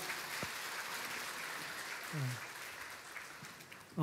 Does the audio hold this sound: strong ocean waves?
no